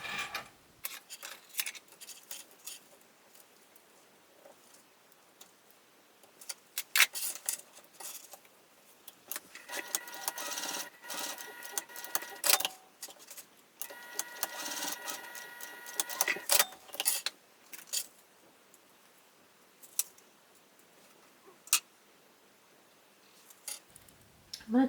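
A sewing machine topstitches a fabric zip coin pouch: quiet, uneven bursts of rapid mechanical clatter spread across the stretch, with the busiest stitching in the middle and small handling clicks in the gaps, close up and with no talk.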